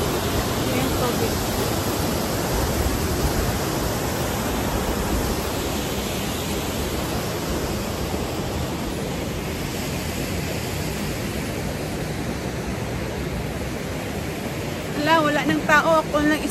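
A waterfall's rushing water pours in a loud, steady, broadband roar that fills the whole scene without letup, with a brief faint chirping near the end.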